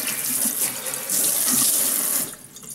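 Water runs from a tap over a PEI build plate from a Flashforge Adventurer 5M Pro as it is rinsed, a steady close hiss and splatter that shifts as the plate moves, then cuts off near the end.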